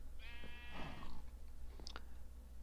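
A sheep in a video game gives a short wavering bleat, followed by a few soft clicks and faint chewing sounds over a low steady hum, quiet overall.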